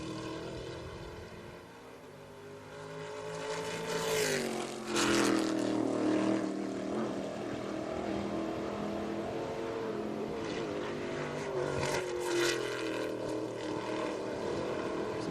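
Stock car crossing the finish line at Cascavel during a 2015 qualifying session, passing right beneath the commentary booth: a loud, sustained engine roar that swells and sweeps past, with other engine noise continuing throughout.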